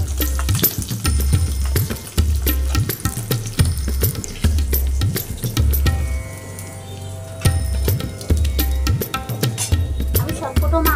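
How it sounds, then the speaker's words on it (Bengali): Rohu fish has been fried and whole spices with bay leaves are tempered in hot oil, heard as a constant sizzle broken by repeated loud scraping stirs of a utensil in the pan, close up. "তেলটা গরম হয়ে গেছে, আমি কিন্তু 5 ফোড়ন দিয়ে দিলাম, 2টো তেজপাতা"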